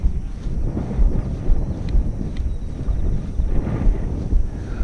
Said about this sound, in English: the wind's picked up too much